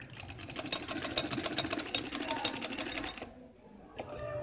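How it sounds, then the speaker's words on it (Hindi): A sewing machine stitches lace onto a garment neckline in a fast, even run of close, rattling stitches for about three seconds, then stops, leaving faint room noise. "अब हम इसको सिलाई लगाएंगे।"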